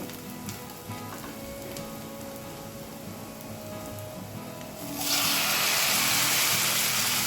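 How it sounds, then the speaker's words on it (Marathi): Chopped tomatoes drop into onions already fried reddish in a hot pan, and the steady sizzle suddenly swells into a loud, broad hiss that carries on alone without talk. "आता आपल्याला लगेचच त्यामध्ये बारीक कापलेले टोमॅटो टाकायचे आहे।"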